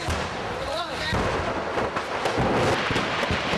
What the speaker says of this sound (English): People started running when this fireworks factory started exploding in Thailand.